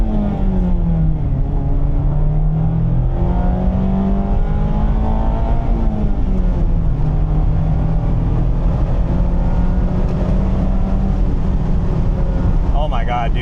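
Modified Mazda Miata RF ND3 engine pulling hard under acceleration, a steady loud drone with rising and falling pitch as it revs through the gears, close and continuous for the whole stretch.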